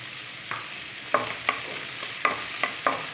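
Onions stirred and frying in a pan for poha, a steady sizzle with several sharp spatula scrapes and clinks at irregular intervals, close and alone without talk.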